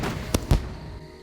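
Two sharp, close firework bangs in the survival game Scum, about a fifth of a second apart, followed by a fading rumble.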